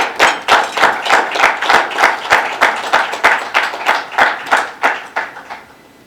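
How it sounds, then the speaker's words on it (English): A crowd at a community chapter opening ceremony claps in a steady, rhythmic unison beat, about three claps per second, loud and sustained throughout. "Don't just clap for me"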